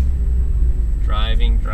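A car drives along with a constant low road rumble inside the cabin, and a brief voice is heard near the end.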